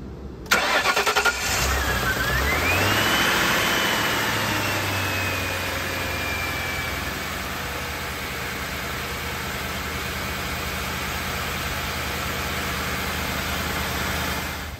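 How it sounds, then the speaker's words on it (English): A 2001 Ford Crown Victoria Police Interceptor that has sat for weeks cranks briefly and fires up from cold, then settles into a loud, steady idle with a whine from the belt-driven accessories, close and continuous. "I'm just going to do a quick cold start on it, so it's been sat for a few weeks, just so you can see how it sounds."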